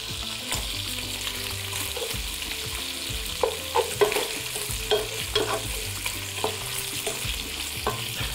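Browned lamb fries in a pot with a few thyme sprigs added, a continuous close sizzle broken by repeated knocks and scrapes of stirring, growing busier toward the end.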